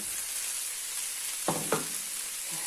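Onions sizzle steadily in a frying pan, a constant bright hiss with two short clinks of a utensil in the middle.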